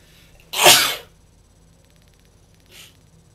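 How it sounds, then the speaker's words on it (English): A single loud, sharp sneeze bursts out close to the mic, followed about two seconds later by a much softer second sneeze or sniff, with a quiet background hum and no talking. "Apologies for that. Sneezing fit."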